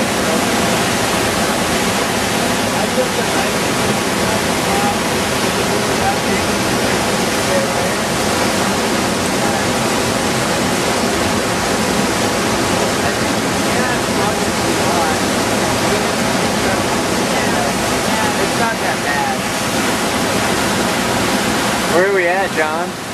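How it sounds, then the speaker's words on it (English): Roaring rapids in a gorge on the Encampment River, a loud, dense, continuous rush of whitewater throughout, with voices faintly audible beneath it. "you are watching illegal people running rapids"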